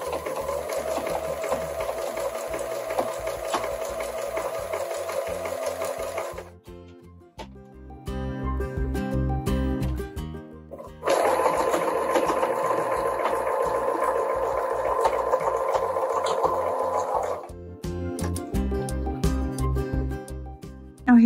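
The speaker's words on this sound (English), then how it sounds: "now I'm just going to slowly stitch all the way around the neck edge" Sewing machine stitching around the neck edge of a knit top, running in two long steady bursts of rapid whirring with a short pause between them, close and clear.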